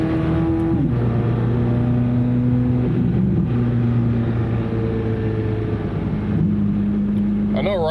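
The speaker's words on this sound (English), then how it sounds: "It's a lot of noise just to go. It's like a Mustang. All that noise just to drive slow." Loud, steady engine drone from a car likened to a Mustang, running throughout with shifting pitch as it drives slowly, a voice talking over it.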